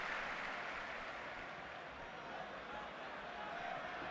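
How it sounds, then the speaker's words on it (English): Broadband stadium crowd noise, steady and sustained, as football fans applaud a departing player during a Dutch league match between PSV Eindhoven and AZ Alkmaar, a continuous wash of clapping and murmur without clear individual claps. "So some applause there for Ibrahim Afellay"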